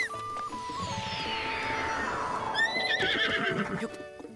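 A horse whinnies in The Legend of Zelda: Breath of the Wild, a long, loud descending neigh over background game music, followed by brief trailing snorts.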